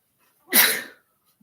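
A single sharp sneeze bursts out close to the microphone, loud and breathy, in otherwise near silence.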